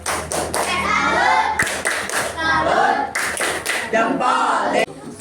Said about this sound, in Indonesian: kita tepuk dulu dong, tepuk salut